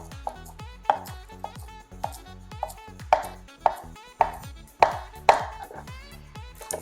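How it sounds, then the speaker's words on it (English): A knife chops cilantro on a cutting board in a home kitchen, a close, brisk run of sharp, rhythmic taps of uneven strength with no talking. "I'm also gonna cut up some cilantro."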